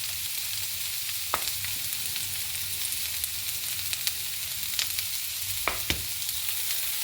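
Chopped onion fries in a pan for a Spanish dish, a steady close hiss of frying with faint crackle and a few light scrapes and taps of a spoon.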